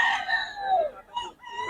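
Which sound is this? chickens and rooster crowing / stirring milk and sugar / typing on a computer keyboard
chickens and rooster crowing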